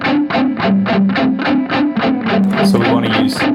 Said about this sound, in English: because if I'm just playing on the delay, it'll sound like this.